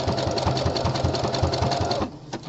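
A home sewing machine stitches the gusset panel on a pair of boxer briefs in a close, steady mechanical chatter of rapid needle strokes that slows and stops near the end, with no voices.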